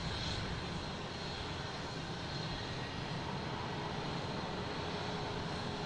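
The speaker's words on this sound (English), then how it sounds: "just had a flight come in from LAX" An Airbus A321 airliner arriving from LAX at Boston Logan, a steady broadband engine roar that stays even and moderately distant throughout, with no voices.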